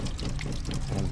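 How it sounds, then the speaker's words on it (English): Tap water pours steadily into a sink at a Walmart as someone washes their hands, a continuous close splashing flow with no talk over it. "I'm wasting water here the way I'm washing my hands."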